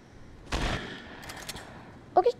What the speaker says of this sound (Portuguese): Tem tiro por aqui.